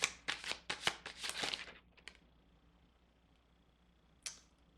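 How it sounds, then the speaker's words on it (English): Tarot cards are shuffled by hand in a quick burst of crisp riffling snaps for about two seconds, close and fairly loud, followed by near silence and one last soft flick. "I am going to continue shuffling"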